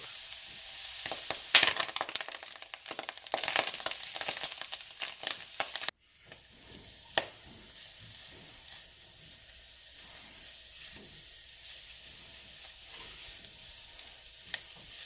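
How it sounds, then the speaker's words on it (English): Onions hitting a hot soup pot, crackling and sizzling loudly while being stirred for several seconds, then settling into a quieter, steady sizzle with occasional scrapes. "adding all of our onions over, we're going to give them a stir"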